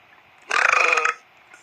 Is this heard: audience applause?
no